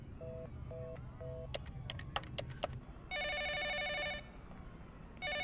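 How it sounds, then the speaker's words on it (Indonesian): A telephone rings in an indoor film scene: several short electronic trill bursts, then a long, loud, steady ring that stops and starts again, clear and close with no talk over it. "Telepon lagi ya, ada yang mau ngangkat nih."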